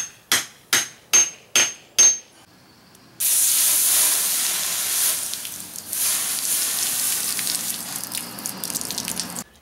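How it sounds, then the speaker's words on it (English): Five sharp, evenly spaced hammer strikes ring out, then after a pause a loud sustained hiss of steam and bubbling water as hot metal for a tactical walking stick is quenched, gradually fading and sputtering. "heat it up and quench it"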